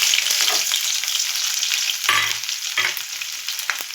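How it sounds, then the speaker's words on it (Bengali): Grated ginger, garlic and two slit green chillies sizzle and crackle in hot oil for a vegetable soybean chilli, a dense steady frying hiss with occasional stirring scrapes and no voices. "এর মধ্যে আমি আদা রসুন কুচি দিয়ে আদা রসুন গ্রেট করে নিয়েছি আর লঙ্কা চিড়ে দিয়েছি দুটো। এগুলো আমি তেলে ফোড়ন দিয়ে দেবো আস্তে আস্তে।"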